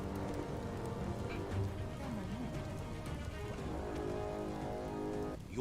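Steady rain pours across the landscape in the video game Biomutant, a dense, continuous patter on surfaces that stays loud and even throughout.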